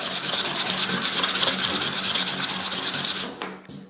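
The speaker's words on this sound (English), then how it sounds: "Let's try the 40 grit. I've never used 40 grit on steel in my life, but here it goes." Rusty steel being sanded by hand with coarse 40 grit sandpaper, a loud, close, steady rubbing rasp in quick back-and-forth strokes that stops abruptly near the end.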